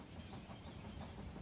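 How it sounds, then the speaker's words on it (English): A train in the video game They Are Billions rumbles faintly and steadily, low and distant, for a brief moment. "You can hear the train."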